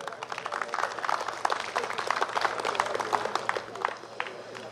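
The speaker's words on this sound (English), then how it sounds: "I think that deserves a round of applause." An audience claps and murmurs in a broad, steady wash of applause with scattered sharp claps, heard at moderate distance at a steel pan history exhibition and tribute event in Trinidad and Tobago.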